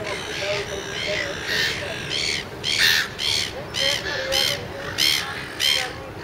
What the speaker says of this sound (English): Lots of seagulls out here.